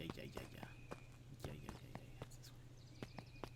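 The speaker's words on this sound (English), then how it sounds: "Luca heard a group of footsteps approaching." Several sets of footsteps draw near in the Beacon Pines video game, sharp taps in an uneven walking rhythm over a low hum, with a voice speaking over them.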